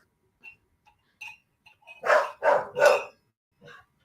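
A female dog barks in a short excited burst indoors: a few faint yips, then three loud close barks in quick succession, followed by a softer final yelp.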